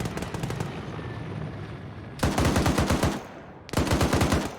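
Machine gun fire from a vehicle gunner seat in a military video game, heard as a sustained hammering burst, a short lull, then two more rapid bursts, loud and close, with no talk.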